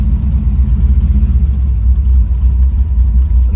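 A 1971 Chevrolet Chevelle with a 406 Dart engine pulls hard under acceleration, a loud, close, steady low rumble that holds full throttle throughout with no talk.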